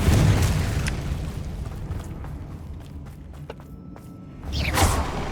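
A fire spell explodes in Hogwarts Legacy with a broad, rumbling blast that decays over a few seconds, followed by scattered crackles and a second whooshing burst near the end.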